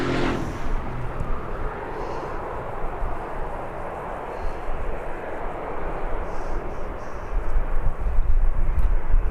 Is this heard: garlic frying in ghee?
no